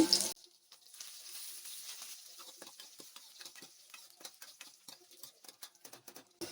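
Curry leaves and cumin seeds crackle and sizzle in hot tempering oil for buttermilk rasam, a dense run of small close pops and spits that continues steadily without talk.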